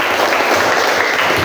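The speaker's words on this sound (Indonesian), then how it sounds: "Tepuk tangan" A class of schoolchildren claps for a group of pupils, a loud, dense burst of applause that stays level through the short moment with no talk over it.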